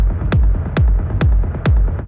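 Master-level techno rumble synth bass in a techno groove, a dense distorted low rumble filling the gaps between four regular kick drum thumps, each hit pitching down sharply, loud and upfront with a gritty upper haze and no speech.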